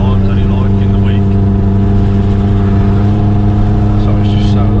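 A Mercedes C63 AMG V8 holds a loud, steady low idle-rev drone at close range, its deep engine harmonics sustained throughout, while someone talks over it.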